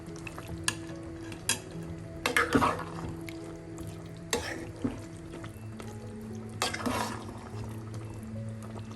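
Spring onion is stirred into garlic chicken in a pan, with intermittent scraping strokes and soft sizzling; the spatula clatters now and then over a quiet background.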